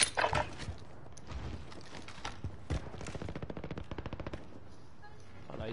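Gunfire in a shooter video game: scattered single shots, then a sustained rapid burst of automatic fire, moderately loud and close, with no talk during the shooting.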